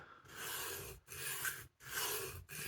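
Carbon steel blade drawn across a sharpening stone during restoration to raise a burr, three long steady rasping strokes separated by short silent pauses, close and moderately loud with no talking.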